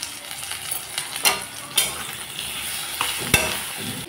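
Spices and cumin sizzle with light vegetables in a pan for a singi fish jhol, the steady frying hiss broken by several sharp scrapes and clinks of a stirring spoon, all close up.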